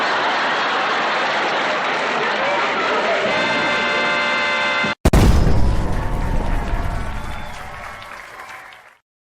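At the end of a TV show, applause and crowd noise give way to a sudden loud blast, followed by a rumbling roar that fades out slowly.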